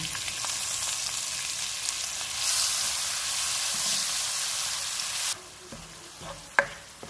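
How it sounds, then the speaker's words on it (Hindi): Steady hissing sizzle of chopped onion frying in a pan, growing louder midway and then quieting, with a few utensil scrapes and a sharp clink near the end. "चॉप किया हुआ 1 प्याज डालेंगे। इसको 3 से 4 मिनट तक फ्राई करेंगे।"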